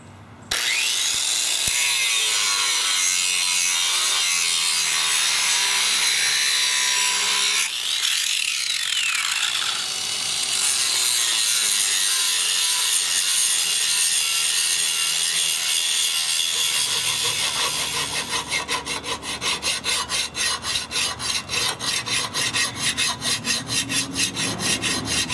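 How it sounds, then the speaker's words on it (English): A survival machete edge is ground and sharpened, a loud continuous abrasive grinding and rasping that changes tone midway and ends in rapid rhythmic scraping strokes, with no talk. "I got the edge sharpened up and ground to where I want it"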